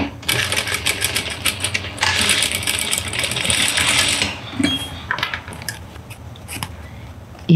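A sewing machine stitches bias tape onto a kitchen towel, its rapid mechanical clatter running in loud bursts with short pauses between them, alone with no talking.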